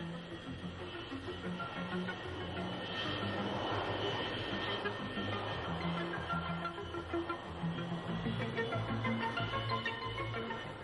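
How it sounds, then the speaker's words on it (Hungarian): Supersonic jet fighters taxi and take off during the Hungarian STRELBA 85 military exercise, a continuous roaring, rushing engine drone that swells and holds steady, heard from some distance with no talk. "Hatalmas robajjal szakadnak el a gépek a földtől, és húznak fel a felhők fölé."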